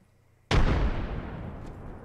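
A single frag grenade explosion in Apex Legends, a sharp loud blast after a moment of near silence, then a long decaying rumble.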